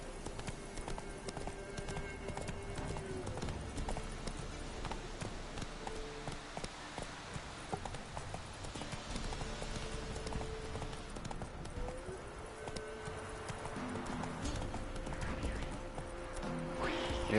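Horse hooves clip-clop steadily as Roach is ridden through woods in The Witcher, with an occasional whinny, under game music and someone talking throughout.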